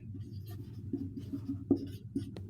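Marker or chalk writing on a board during an AC circuits lecture, close soft scratchy strokes in short bursts, quiet with faint room hum.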